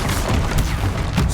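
Incendio fire spell blasting in Hogwarts Legacy, a dense roaring boom with crackling bursts that swell and recur across the short span, loud and close with no talk.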